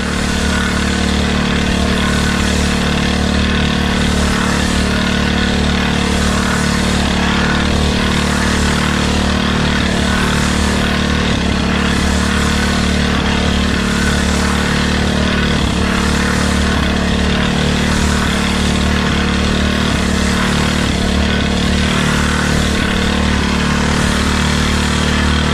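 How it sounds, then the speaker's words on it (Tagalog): A small engine at a corn farm runs rough and uneven, sputtering with a constant loud droning hum and no pause. "Nag-uurot-urot yung makina."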